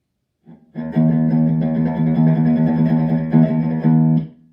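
Electric guitar with a distorted, effected tone playing a sustained run of rapid alternate-picked notes, loud and steady for several seconds after a short start.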